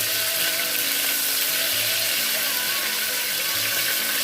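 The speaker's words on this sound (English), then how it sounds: "So once the oil is hot enough, I'll go ahead and add my onions. So it's kind of splashing because it is frozen onions" Frozen onions sizzling and spattering in hot oil for smoky yam pottage, a steady dense broadband hiss throughout with no clear pauses.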